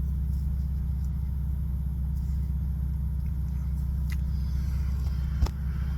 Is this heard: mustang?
yes